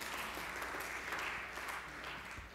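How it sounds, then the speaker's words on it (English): An audience applauds and cheers, a dense, continuous wash of clapping hands and crowd noise, fairly distant, sustained for a few seconds without a break. "Why are we cheering that?"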